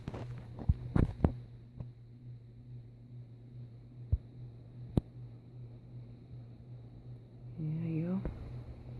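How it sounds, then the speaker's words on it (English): A Hampton Bay/SMC 52-inch hugger ceiling fan runs on high, giving off a steady low hum under a few scattered clicks and taps, with a voice briefly speaking near the end. "It makes a bit of a humming noise."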